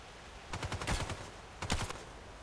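Gunfire in the online shooter Contract Wars, two short rapid bursts of automatic shots, the first about a second long and the second briefer, loud and close with no talking.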